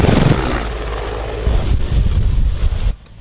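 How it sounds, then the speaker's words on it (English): A Mi-24 attack helicopter flies overhead with a steady, heavy rotor roar mixed with wind rumble, loud and close, easing off abruptly near the end. "This is Mi-24, Ukraine's main attack helicopter."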